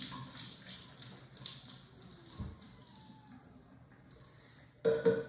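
Juice from canned yams drains through a strainer with a soft, steady trickle of liquid, close and quiet, ending in a brief louder splash.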